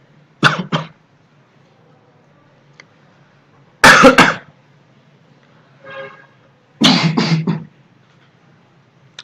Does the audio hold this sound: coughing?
yes